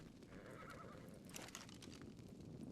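A horse in the video game Ark: Ragnarok Ascended neighs in a drawn-out whinny with hoof clip-clops, fairly quiet against a steady game ambience.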